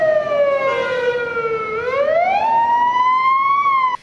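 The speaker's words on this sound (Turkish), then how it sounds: "Uzun süre siren çalan ambulansa yol açılmadı." An ambulance siren wails loud and close while stuck in traffic on the way to a crash scene, its pitch sliding down slowly and then rising again in a long continuous sweep.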